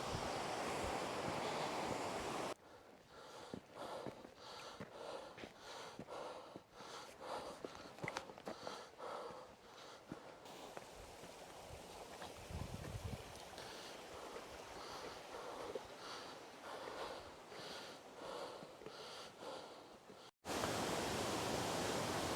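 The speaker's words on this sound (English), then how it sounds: "Looks like I found a waterfall." A waterfall pours steadily in snowy hills, its broad continuous rush of water close and loud for about twenty seconds, with no talking.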